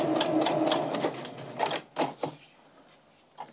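A home sewing machine stitching fabric off the edge with slightly off tension, giving a close run of rapid stitching that slows into a few separate clunks and then stops.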